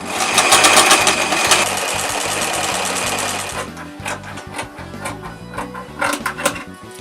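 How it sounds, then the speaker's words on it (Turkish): A sewing machine stitches along the edges of a fabric seat-back organizer for a Volkswagen Transporter T4, running loud and steady for about three and a half seconds, then continuing in shorter, quieter bursts with pauses. "Şimdi bunun kenarlarını çekiyorum makinede."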